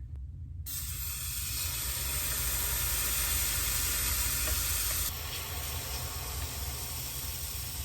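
Gluten-free pancake batter made partly with oatmeal flour sizzles on a griddle heated to 375, a steady broad hiss that flares louder after a brief quiet start and eases slightly midway, with no talking.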